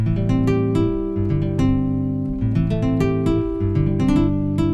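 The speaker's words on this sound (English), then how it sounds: "I really like this nylon guitar here" A keyboard's nylon-string guitar sound plays a plucked melody over low bass notes, clean and steady, with no talking.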